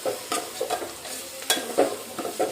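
Onions fry on high flame in a pan, sizzling steadily under repeated scraping and stirring strokes, close and fairly quiet.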